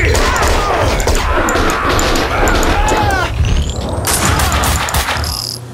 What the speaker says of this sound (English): Must have heard gunfire.